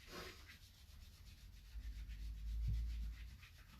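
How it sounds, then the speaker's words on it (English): Hands rub over clothed shoulders in a steady, close brushing stroke, a soft continuous friction that swells slightly toward the end, with no voices. "just give the shoulders a rub"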